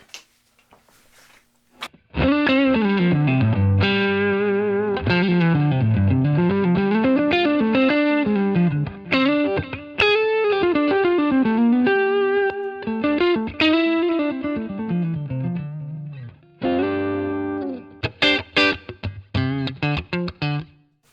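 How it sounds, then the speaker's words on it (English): A distorted electric guitar plays continuous riffs and held chords through overdrive pedals into a Line 6 Catalyst 100 amp, loud and close, with a short pause before the final choppy strums. "I feel like all of those drive pedals are sounding quite similar in front of it"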